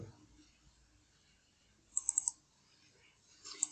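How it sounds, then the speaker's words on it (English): A computer mouse button is clicked in quick succession, a few light, sharp taps close by in an otherwise quiet room, followed by another soft click moments later. "Now here double click this corner."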